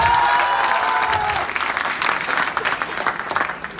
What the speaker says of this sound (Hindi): इसके लिए जोरदार ताली बजाओ यार।